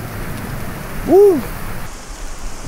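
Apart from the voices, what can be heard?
heavy thunderstorm rain at night while camping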